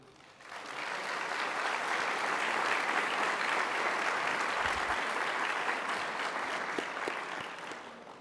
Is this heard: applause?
yes